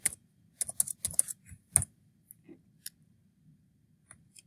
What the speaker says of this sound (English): I'm going to type in the item barcode because I cannot scan on my laptop.